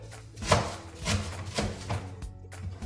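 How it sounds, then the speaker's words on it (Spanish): A knife chops vegetables for a sofrito for chicken and rice, giving a series of close, uneven cuts against a board with some soft handling noise between strokes. "Y todo esto que estoy picando en estos momentos es para realizar una especie de sofrito."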